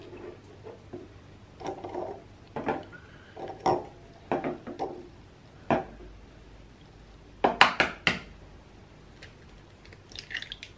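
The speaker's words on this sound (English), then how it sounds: "first things first, just going to crack the eggs" Eggs being cracked for a homemade quiche in a kitchen: a string of sharp taps and crisp cracks, with light clinks of shell against a bowl, spaced irregularly and close by, with no voices.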